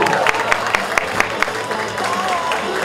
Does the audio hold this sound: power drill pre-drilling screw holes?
no